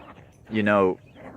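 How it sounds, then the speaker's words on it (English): A dog's bark or yelp, a single drawn-out harmonic call close by, rises briefly over a low murmur of talk. "Those are my dogs."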